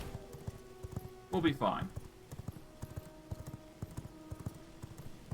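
Horse hooves clip-clop steadily in the V Rising game, a regular trot of hollow knocks at moderate distance, with someone briefly talking over it.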